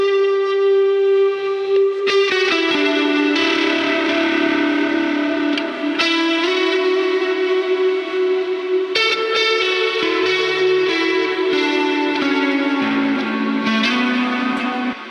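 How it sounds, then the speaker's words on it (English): Distorted electric lead guitar playing sustained melodic notes and bends, washed in echo and reverb, loud and up front with brief gaps between phrases. "I also have lead guitar parts"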